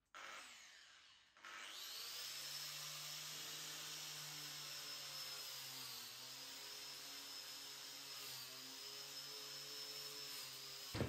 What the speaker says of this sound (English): I've got a wire brush on the grinder and we'll give that a go and tidy it up.